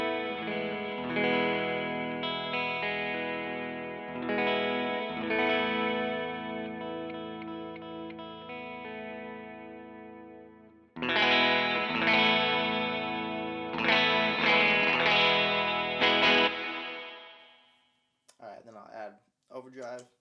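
Clean electric guitar played through a Line 6 HX Stomp with light reverb, no delay and no overdrive: strummed chords ringing out, a pause, then more chords that stop abruptly, followed by a few short muted plucks.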